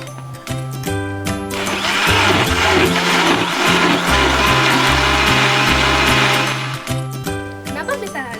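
An electric blender grinds loloh cemcem ingredients with rujak spices, a loud, dense whirring that runs for about five seconds under background music, with brief starts and stops at either end.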